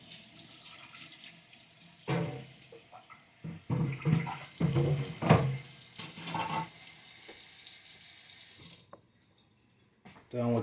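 Tap water runs into a kitchen sink while a cutting board and knife are washed, a steady splashing hiss with louder bursts of scrubbing and water hitting the board, then it cuts off near the end.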